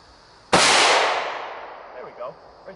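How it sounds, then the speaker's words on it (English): A .45 pistol fires a single loud shot into ballistic clay, a sharp crack whose echo decays over about a second in an outdoor setting, followed by faint voices. "I've got the 45 set up and ready. I'm gonna take a shot over here."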